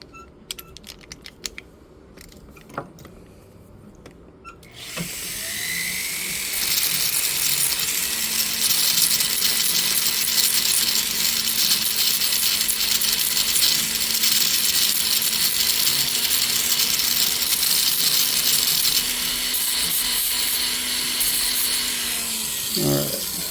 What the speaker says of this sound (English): we're going to have to go to the grinder just a little bit here